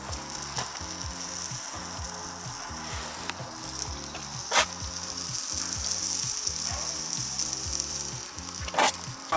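Food sizzles on a makeshift camp stove, a steady frying hiss with a rhythmic mechanical clicking running beneath it and a few sharp clacks on top, close and fairly loud, with no talk.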